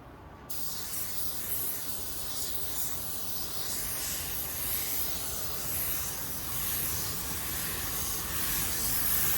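A paint spray gun hisses in one long continuous blast, starting abruptly and staying close and steady to the end.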